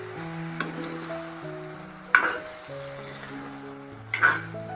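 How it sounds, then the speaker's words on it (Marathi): A spatula scrapes sticky shredded sweet potato and potato off a pan in three short, distinct strokes over a soft background of steady tones. "थोडंसं खरवडून घ्यायचं आहे कारण खाली बटाटा आणि रताळ्याचा किसा चिकट असतो"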